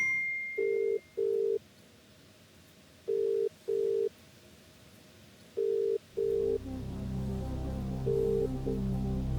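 A telephone call rings in regular paired tones separated by silences on the Kaun Banega Crorepati game show, then a low hum of background noise joins the final rings.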